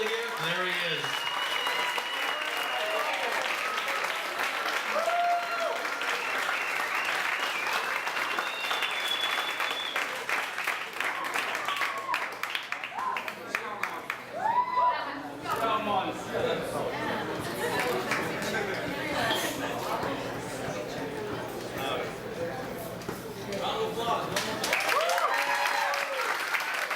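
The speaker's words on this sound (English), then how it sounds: "Round of applause for Ryan." An audience at a music industry gathering applauds a night's winner, a dense patter of clapping mixed with chatter, cheers and some speech throughout, steady and moderately distant.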